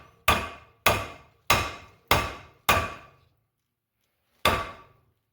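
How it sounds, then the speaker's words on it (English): A hammer strikes a wooden block set over the wedge in an axe handle, giving five sharp, evenly spaced knocks, a pause, then one final blow, each ringing briefly in a quiet room. "I'm going to spread out the force with my block of wood here."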